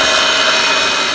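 A power tool cuts a channel into a marble slab during stone installation prep, producing a loud, steady, close grinding roar throughout a brief moment without pauses.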